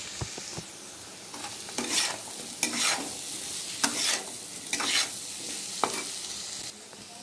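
Soybean chunks and potatoes with chilli powder frying in a pan, a soft continuous sizzle broken by repeated spoon scrapes and stirring strokes at an uneven rhythm, close and fairly quiet.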